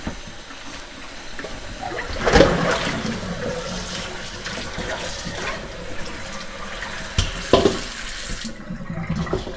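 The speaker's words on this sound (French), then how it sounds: "Vous les lavez, vous les rincez à l'eau du robinet." Tap water runs steadily from a faucet into a sink as collard greens are rinsed, a continuous close splashing flow with a couple of louder surges before it cuts off near the end.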